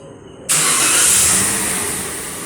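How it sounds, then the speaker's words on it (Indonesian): A car engine cranks and catches abruptly, then settles into a loud, steady broadband roar close by, during an exhaust emission test with the O2 sensor disconnected. "sekarang kita hidupkan mesinnya"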